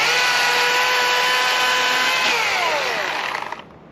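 A Husqvarna chainsaw with a 20-inch bar cuts through a tree, holding a loud, steady high-pitched whine up close before the revs drop away and the engine winds down at the end.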